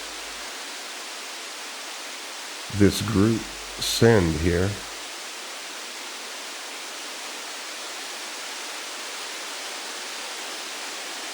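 Synthesized light rain sound effect, an even, soft hiss of noise running steadily the whole time, with a brief bit of talk partway through.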